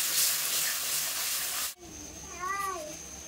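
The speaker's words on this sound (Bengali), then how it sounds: "সামান্য পরিমাণে একটু জল দিয়ে দেবো, দিয়ে এবার মশলাটা সুন্দরভাবে কষিয়ে নেব" Spice masala for chicken malai curry sizzles and hisses loudly in a hot pan, then cuts off abruptly, followed by a quieter background with a faint voice.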